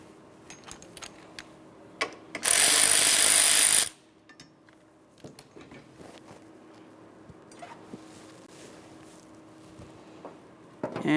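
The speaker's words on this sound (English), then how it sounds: "Now we can get that final mounting bolt out of there." A power tool whirs in one loud, steady burst of about a second and a half, taking out the final mounting bolt of a hood hinge on a 2012-2015 Honda Civic. Faint clicks and tool handling follow before and after.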